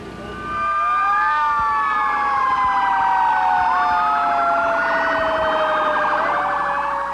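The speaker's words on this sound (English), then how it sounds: "Fire engines race to the White House for a call." Several loud, wailing fire engine sirens overlap and rise and fall continuously, close by, with a rumbling engine underneath, as fire engines race to the White House in Washington.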